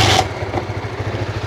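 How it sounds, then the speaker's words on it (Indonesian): A Honda Supra GTR 150 motorcycle is kickstarted, with a brief loud burst followed by a steady, close, low idling putter. "Kita coba kickstarternya ya."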